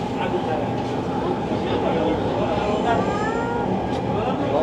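Driverless Riyadh Metro train running smoothly, heard from inside the rearmost carriage as a steady, continuous rumble and hum throughout, with people talking over it.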